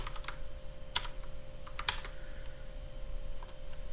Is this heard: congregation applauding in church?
no